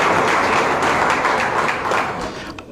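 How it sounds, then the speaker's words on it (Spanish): Loud sustained applause from an audience at an academic ceremony in Pativilca, a dense wash of clapping that thins and fades near the end. "El aplauso fuerte, por favor, que se escuche"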